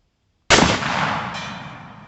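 A single sharp, loud rifle shot from a Rossi R92 firing reloaded .45 Colt rounds at a target, cracking out of silence and fading into a long rolling echo, with no talk.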